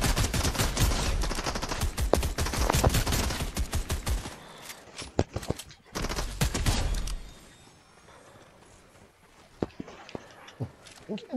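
Rapid bursts of Fortnite gunfire, dense and loud at first, then sparser scattered shots with quieter gaps between them.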